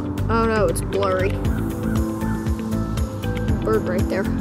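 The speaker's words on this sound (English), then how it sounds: "Bird right there, super cool." Waterbird at a pond gives loud, honking goose-like calls in a few bursts, close by, mixed with outdoor noise and a person talking.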